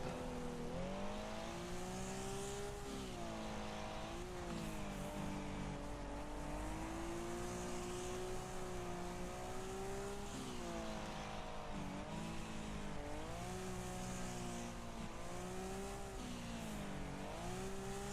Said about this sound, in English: Tyres all over the place there as we come round towards the finish.